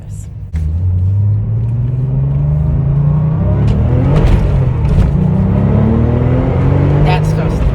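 A Porsche 911 (997) Turbo Cabriolet engine hums loudly on a test drive, rising steadily in pitch as the car accelerates through a gear and then pulling again, with a voice talking over the drone.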